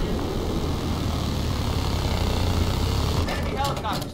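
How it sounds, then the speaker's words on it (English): Enemy helicopter in the video game Battlefield 4, a loud, steady engine and rotor drone that fills the scene throughout, with brief sharper sounds near the end. "Oh, there's the helicopter."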